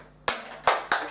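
Three loud, close hand claps during a second-grade maths lesson on multiplication and division, the first alone and the last two coming faster, each sharp and ringing briefly with no talk between them.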